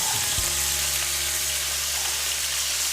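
Onions frying in oil in a pan for venison stroganoff give a steady, close sizzle that holds evenly throughout, with a brief clatter near the start as they go in.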